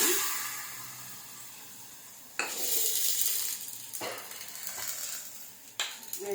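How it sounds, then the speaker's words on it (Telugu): Hot tempering poured into brinjal chutney (vankaya pachadi) sets off a sudden sizzle, followed by stirring and scraping of a utensil in the pan, close and fairly quiet, with a second scrape near the end. "ఓకేనా, ఈ పోపు ఇందులో వేసేసుకుంటున్నాను."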